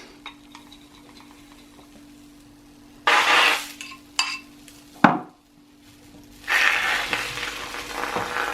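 Egg, soy sauce and dashi mixture in a rectangular yaki tamago pan, with a faint sizzle broken by bursts of scraping and clattering from a utensil against the pan, one sharp knock midway, no talk.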